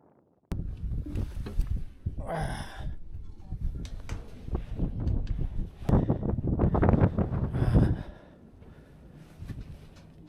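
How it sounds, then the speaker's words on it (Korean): Gusty wind roars and buffets the microphone in waves in the Uyuni salt flat, swelling loud in the middle and easing off toward the end. "여기서 바람 소리가 들리지."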